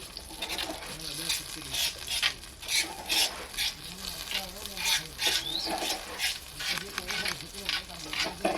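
Basmati rice being stirred into a sizzling tempering in a pan over a village cooking fire, with repeated scraping and stirring strokes over a steady frying hiss.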